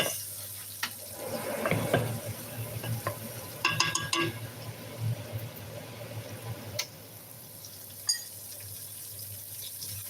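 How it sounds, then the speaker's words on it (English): Onions stirred in a pot for vegetable soup, a spoon scraping and clinking against the metal over a low sizzle, with a few sharper knocks partway through and quieter simmering after. "So allow the onions to saute"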